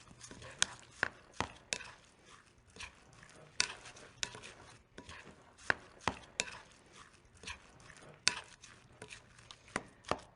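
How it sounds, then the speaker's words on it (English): Meatloaf ingredients with breadcrumbs mixed by hand in a bowl, heard as soft squelching and irregular sharp taps against the bowl, close and fairly quiet with no talking. "Now, I'm going to mix that all up."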